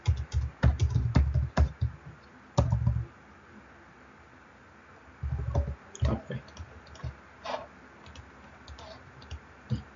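Bursts of typing on a computer keyboard, clusters of close key clicks separated by quiet pauses, with faint talk in the room between the bursts.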